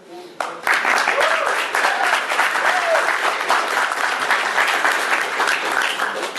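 A crowd at a MAGFest convention panel bursts into sustained applause, many hands clapping loudly and steadily for several seconds, with a few voices and whistles mixed in.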